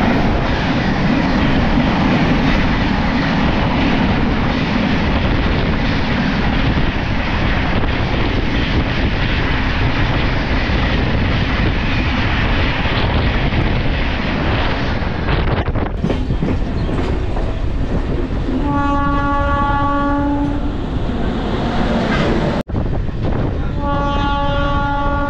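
The 12313 Sealdah–New Delhi Rajdhani Express passes close by, a loud sustained rush of wheels and carriages roaring for about fifteen seconds, then a sharp change in the clatter and repeated blasts of a train horn near the end.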